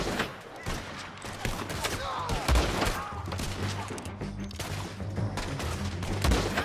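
A gunfire shootout in Red Dead Redemption 2 crackles with scattered shots and sharp cracks at varying distances. A few louder bangs stand out over game ambience, and voices talk at moments.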